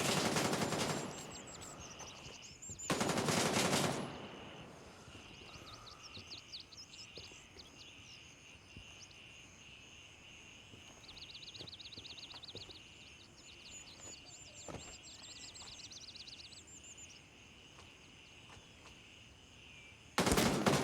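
Automatic gunfire rattles in the military shooter game Gray Zone Warfare: two loud, close bursts near the start, then distant shots and bird chirps over ambient forest sound, and another burst at the very end.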